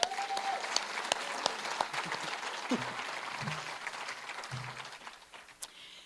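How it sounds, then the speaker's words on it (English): A crowd at a cancer remembrance event breaks into sustained applause, heard from a distance and fairly faint, with a few sharper individual claps and scattered voices mixed in. "How about a round of applause?"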